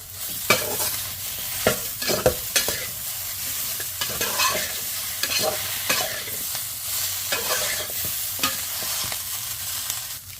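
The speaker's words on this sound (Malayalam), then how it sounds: "നമുക്ക് ഇതിലോട്ട് നമ്മുടെ വെണ്ടയ്ക്ക ഇട്ട് കൊടുക്കാവേ. ഒന്നങ്ങ് മിക്സ് ചെയ്യാം." Sliced okra sizzles in hot oil with spice powders while a spoon stirs and scrapes the pan in irregular strokes, close up, with a steady frying hiss underneath.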